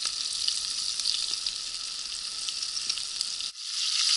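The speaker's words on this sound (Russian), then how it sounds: "Ну вот, рыбка у нас жарится." Fish frying in a pan until crispy gives a steady, dense sizzle with bright crackles throughout, close and loud, with a brief dip near the end before it resumes.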